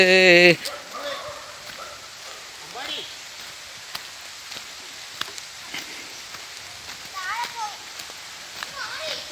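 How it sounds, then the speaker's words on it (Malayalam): Rain falls steadily outdoors in a village setting, making a soft, even patter with occasional drips, while people talk over it and a voice rises briefly at the start. "മഴ പെയ്യുന്നുണ്ട്"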